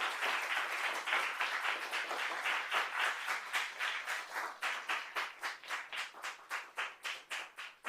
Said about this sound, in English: Please give the outgoing officers a round of applause for the wonderful service they have rendered to the